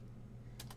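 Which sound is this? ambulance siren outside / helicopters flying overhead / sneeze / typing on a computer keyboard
typing on a computer keyboard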